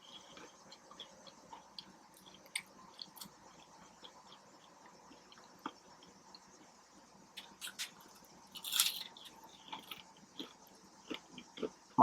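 Fried catfish coated in Zatarain's Crispy Southern Fish Fry is eaten up close, with faint, scattered crunches and chewing over a quiet background, with no talking.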